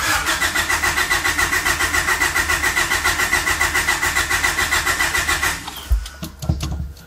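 A Honda Prelude fitted with a Hondata S300 cranks without starting, making a loud, steady rhythmic churn for about five seconds before it stops and a few clunks follow.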